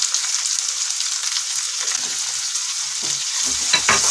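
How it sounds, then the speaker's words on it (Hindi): Chopped onions frying in a pan with ginger, garlic and green chili paste, a bright steady sizzle with scraping stir strokes toward the end, close up and fairly loud, no talking. "और प्याज को मैं भूनने दूंगी।"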